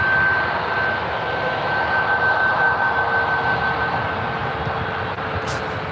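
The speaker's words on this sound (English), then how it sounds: "It's a 737 MAX 9." A United Airlines Boeing 737 MAX 9 airliner at an airport roars steadily and loudly with a broad engine rumble and a sustained whine, holding close and constant throughout with no talk.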